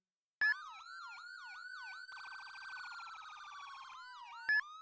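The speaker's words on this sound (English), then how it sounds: "And here's the auto siren." Auto police siren in the game ER:LC, a rapid electronic wail cycling up and down, then switching midway to a faster warbling yelp before slowing again, with short horn blips at start and end, loud and alone.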